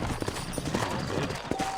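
Horse hooves clip-clop in the Red Dead Redemption western game, a quick irregular run of thuds at a trot under background game sound, with a brief voice.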